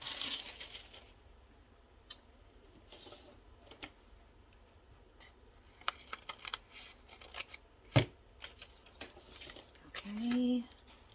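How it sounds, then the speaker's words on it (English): Scissors snip paper for coin pockets in scattered, faint cuts amid soft paper handling and rustling, with a brief low hum near the end. "Cut that off."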